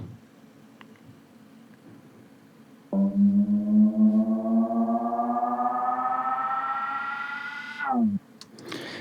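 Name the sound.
synthesizer bass patch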